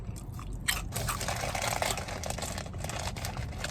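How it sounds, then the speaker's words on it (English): Crunchy food is chewed close up, with dense, continuous crackling bites and mastication at moderate loudness and no voices. "Has that crunch sound."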